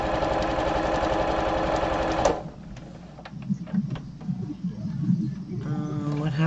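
A sewing machine stitching a large grocery tote bag, running in a steady, fast, loud mechanical rattle before stopping abruptly, followed by quieter handling clicks and light rustling.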